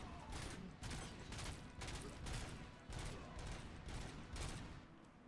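Continuous gunfire in the Robocop: Rogue City video game, a dense rattle of rapid shots pulsing in steady bursts, loud and unbroken with no talking over it.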